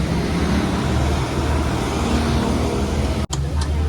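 A vehicle rolls along a road near Mandad on the way to the Tala fish market, giving a steady, loud engine and road rumble that ends with a brief sharp drop near the end.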